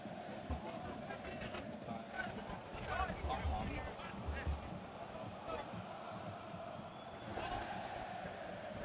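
Fans at an NPSL soccer match between Port City and Appalachian FC at Port City House, a steady distant crowd murmur with scattered shouts and brief swells, heard continuously in the background.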